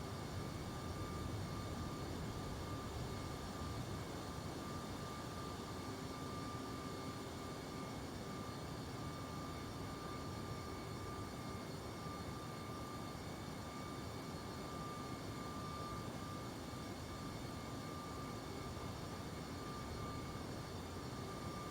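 An MD-11F freighter airliner in the X-Plane 11 flight simulator powering up for takeoff, a loud, continuous broadband engine roar with a steady whine that holds unchanged throughout, no voices over it.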